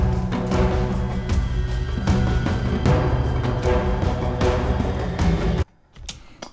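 Video game combat music loop playing back in Wwise: dense, driving music with regular percussive hits, loud and continuous until it stops abruptly near the end, leaving faint sounds.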